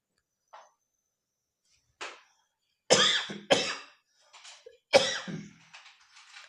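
Several dry coughs and throat clears from a person with a cold, close and fairly loud, coming in bursts with short pauses between them and no talking.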